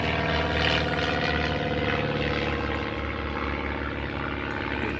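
A propeller airplane flies overhead with a steady, broad engine drone that holds loud and constant throughout, with no one talking.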